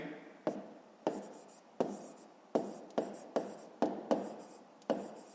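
Pen strokes scratch across a notebook page in a steady series of about eight short, close, distinct strokes, each starting sharply and trailing off, with no voices.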